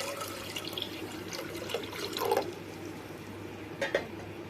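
Water pours and splashes into a container in short bursts for sugar syrup, with a gurgling trickle, fairly close and moderately quiet.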